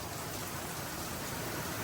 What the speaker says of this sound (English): We get more rain. It's coming down good now.